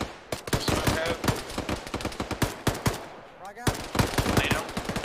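Rapid, loud bursts of automatic gunfire crackle almost nonstop during an Arma 3 military-simulation firefight, with shots overlapping in dense volleys and only a brief lull before the shooting resumes.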